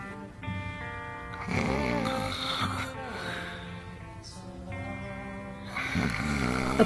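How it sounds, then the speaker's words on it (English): A man snores in a bedroom in a series of rough, rhythmic rattling breaths of moderate loudness, mixed with other voices and noisy sound throughout. "Dad, stop snoring!"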